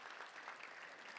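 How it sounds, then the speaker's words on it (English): Audience applause at a golf-season luncheon of a touchdown club in Little Rock: dense, steady clapping from a room full of people, sustained for the whole moment without a break. "Let's give a round of applause for the Simmons Bank Championship."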